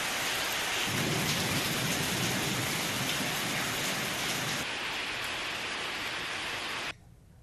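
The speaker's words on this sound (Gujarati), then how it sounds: "કડાકા ભડાકા સાથે વરસાદ વરસ્યો હતો" Heavy, steady downpour in Ahmedabad with a deep rumbling undertone of thunder, loud and unbroken before cutting off suddenly at the end.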